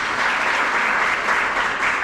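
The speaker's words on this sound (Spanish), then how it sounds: "Un fuerte aplauso." Loud, steady audience applause at an education congress thanks a speaker named Liliana, a thick wash of many hands clapping at an even level through the short stretch.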